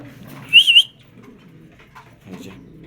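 A Bangladeshi fancy pigeon, a gorgorio knot bird, gives a short burst of cooing that stands out clearly for under a second, then the rest is quiet with faint low background rumble.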